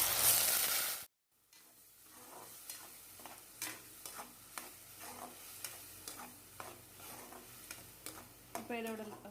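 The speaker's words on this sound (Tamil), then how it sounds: "இப்போ இதோட ராஸ் ஸ்மெல் போகிற வரைக்கும் கொஞ்சம் நல்லா வதக்கிக்கலாம்" Onion and tomato paste sautéing in a pan over curry leaves for egg masala, a low steady sizzle broken by repeated stirring scrapes and taps at a moderate pace, close by with no talking.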